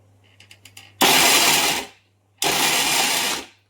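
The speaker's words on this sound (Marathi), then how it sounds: "मिक्सर मी लावलंय." An electric kitchen mixer coarsely grinds soaked mixed lentils and pulses with a little water. A few light clicks come first, then two loud whirring bursts of about a second each, separated by a short pause.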